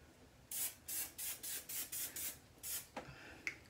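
An aerosol can gives about seven short, even spray bursts in quick rhythm, close by and fairly soft, followed by a couple of faint clicks.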